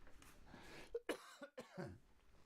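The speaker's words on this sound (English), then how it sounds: "Sorry, I had to cough." A few quick, close coughs break through a quiet background, short throaty bursts in a row.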